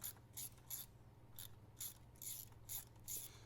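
A ratchet clicks in short, regular bursts, about eight quick strokes, loosening T20 bolts on the oil filter housing of a 3.6 Pentastar engine, close up with a low background hum.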